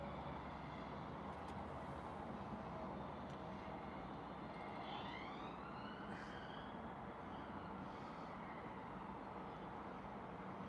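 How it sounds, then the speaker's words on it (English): Distant sirens wail with rising and falling sweeps outside, faint behind a constant wash of steady traffic-like noise, heard most clearly midway through. "Lots of sirens today here, I don't know what's going on."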